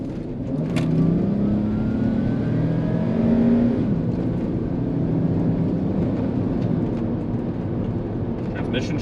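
A 1997 VW Eurovan camper van drives along with a steady engine drone and road noise, and rising engine tones mark gear shifts early on, heard from inside the cabin.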